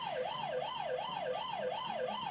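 An ambulance siren in the video game Busy Town wails in a fast, steady rising-and-falling cycle, continuous and clear, with no talk over it.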